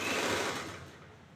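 A sewing machine stitches a blouse seam about a quarter inch from the edge, giving a steady close mechanical whir that eases slightly toward the end, with no talking.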